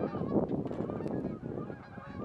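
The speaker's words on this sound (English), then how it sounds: "Bye bye, geese." A flock of geese honks repeatedly while flying high overhead above a farm, the calls overlapping in a dense, steady chorus that carries clearly with no talk.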